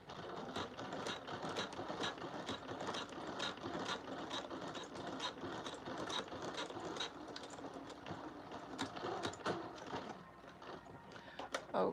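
An electric sewing machine runs steadily, stitching fabric with a fast mechanical clatter of needle and gears that continues close and fairly loud throughout, with a few brief pauses and speed changes.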